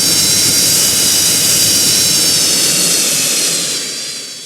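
Jet engines of an airliner in the Roblox flight game Project Flight roar steadily with a high whine, loud and close, then begin to wind down and soften toward the end, with no talk.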